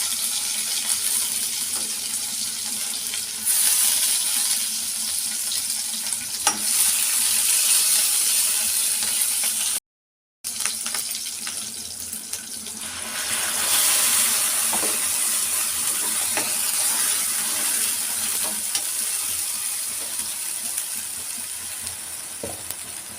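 Onion, mustard seeds, cumin and curry leaves frying in hot oil give a steady, close sizzle with faint stirring scrapes throughout, briefly cut off once partway, with no talking.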